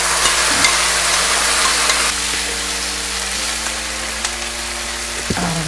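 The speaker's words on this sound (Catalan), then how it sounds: "Després que estigui molt calent hi ficaré la ceba." Chopped onion goes into very hot oil in a frying pan and sizzles loudly and steadily, a close, bright hiss that settles into a continuous fry with a few stirring scrapes.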